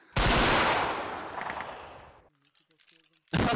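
A volley of rifle fire in an Anglo-Zulu war video game set at Rorke's Drift with the 33rd Regiment of Foot: one loud, crashing, massed blast that rolls and fades over about two seconds, then a brief lull before another volley erupts.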